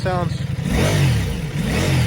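A 2025 Ducati Multistrada V4 Pikes Peak motorcycle engine revs up and down twice, rising and falling in loud, close bursts over a steady idle.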